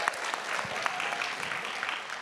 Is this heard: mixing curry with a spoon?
no